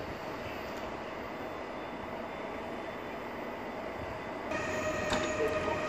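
An Intercity passenger train in Poland rumbles past with a steady roar of wheels on rails, growing a bit louder toward the end with faint metallic squeals.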